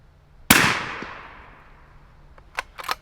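A Sylvan Arms SA357 fires a Winchester Super Suppress round: one sharp, close shot cracks and tails off into a long fading echo, followed by a few faint metallic clicks.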